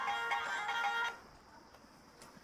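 A phone ringtone plays a bright electronic melody of repeating tones for about a second, then cuts off, leaving quiet room tone with a faint click at the end.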